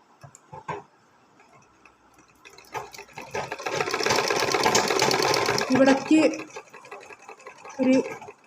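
Sewing machine stitching a blouse, a few clicks and taps before a fast, even rattling run of stitches that swells and then eases, with someone speaking over parts of it.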